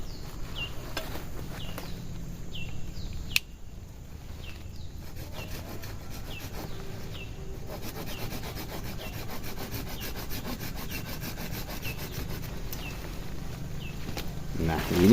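A hand saw rasps through a thick coffee tree branch in steady back-and-forth strokes, fairly close, with faint chirping insects in the background.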